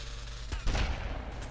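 Gunfire in GTA Vice City: a sharp burst of shots from above rings out over the game's constant background hum and music, short and fairly loud.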